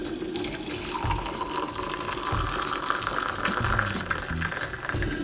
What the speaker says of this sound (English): I'll get my boiled water when it's nicely boiled and add right to it